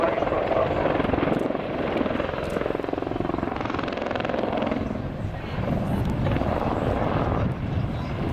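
An Apache helicopter flies a wingover manoeuvre, its rotor giving a steady, loud throbbing drone with a heavy rumble that shifts slightly as the aircraft turns.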